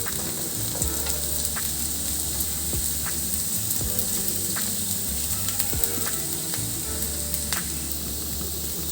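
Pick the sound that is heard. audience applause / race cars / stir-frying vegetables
stir-frying vegetables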